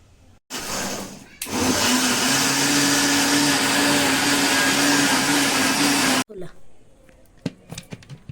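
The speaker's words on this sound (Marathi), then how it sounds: "आता हे आपल्याला ग्राइंड करून घ्यायचं आहे" A kitchen mixer grinder whirs loudly and steadily as it grinds ripe mango pulp for mango saat, starting with a short burst, then running for about five seconds before stopping abruptly, followed by faint clinks.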